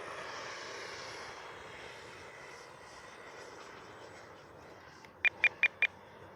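Twin 64mm electric ducted fan RC F-15 jet climbing out after takeoff with flaps down, a steady distant whine and rush that fades slightly, followed near the end by four sharp clicking beeps.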